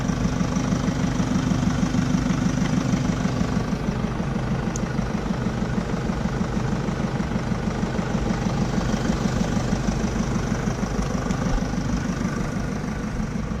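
A work van's engine idles steadily after its dead battery was recharged, a low, even rumble with a faint high whine running unbroken for over thirteen seconds with no voices.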